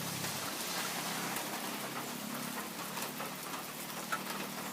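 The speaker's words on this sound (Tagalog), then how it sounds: "So, gahapon, gaulan-ulan, karon gaulan-ulan po." Steady rain falls softly on a farm, a continuous quiet hiss of drops pattering on surfaces with no voices.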